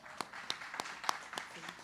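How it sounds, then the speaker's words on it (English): Scattered hand claps ring out during a funeral service, six or so sharp claps at an uneven rhythm, soft and somewhat distant, with faint voices murmuring beneath them. "I want you all to stand up and clap for her."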